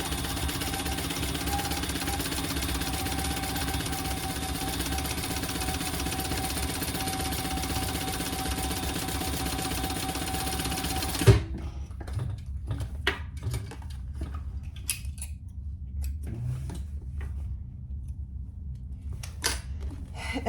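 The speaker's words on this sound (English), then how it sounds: "we're gonna top stitch on the shorter edge" A sewing machine topstitches the shorter edge of a hobo shoulder bag, its motor droning steadily for about eleven seconds before stopping, followed by sparse clicks and handling noises.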